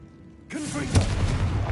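The Confringo fire blast spell in Hogwarts Legacy bursts with a deep boom that rolls into a lingering crackling rumble, loud and close after a quiet lead-in.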